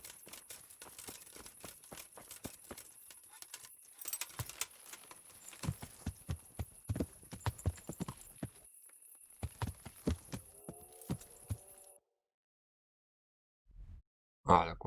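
A horse's hooves in the medieval video game Kingdom Come: Deliverance, sounding as a quiet, uneven series of clip-clop beats over a steady high hum that cuts out near the end.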